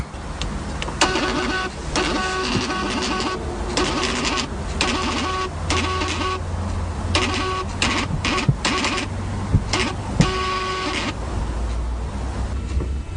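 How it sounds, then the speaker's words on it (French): A truck tachograph prints a daily driver report, a loud, close mechanical printer whirring and buzzing in repeated short bursts over a steady engine hum. "À la fin de ma tournée, je peux imprimer le protocole journalier."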